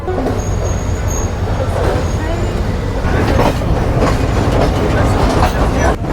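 A Sri Lankan train in the cheapest carriage class runs along the railway near Bandarawela, giving a steady, loud, close rumble of wheels and carriage noise throughout with faint rattling and occasional voices in the background.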